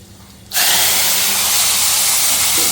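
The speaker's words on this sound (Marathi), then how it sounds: "इकडे डाळीला आपण आता फोडणी देतोय" Hot tempering of curry leaves, coriander powder, turmeric and salt poured into cooked dal bursts into a loud, sudden sizzle after a quiet start, then holds as a steady, close hiss.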